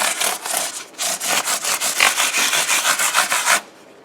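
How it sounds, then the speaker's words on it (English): Rapid back-and-forth scraping of sandpaper on guitar frets, held on a finger, about three rubs per second, close and loud, stopping suddenly after a few seconds. "You can polish the frets this way, so you use your finger as like a sanding block."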